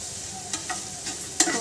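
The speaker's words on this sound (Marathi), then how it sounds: "थोड़ा कांदा आपण फ्राय करूया" Onion frying in hot oil in a pan gives a quiet, steady sizzle with a few soft stirring scrapes and clicks, heard alone.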